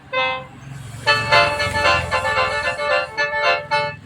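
Traditional Thai wind instruments, a small and a large one blown together in harmony, a short blast followed by a longer sustained chord with wavering pulses, close and loud.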